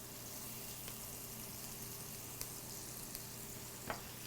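Chopped onions fry in a pan in a home kitchen, a quiet, even sizzle running throughout with a few faint clicks and taps of utensils.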